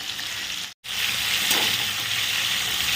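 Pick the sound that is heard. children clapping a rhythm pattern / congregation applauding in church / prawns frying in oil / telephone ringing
prawns frying in oil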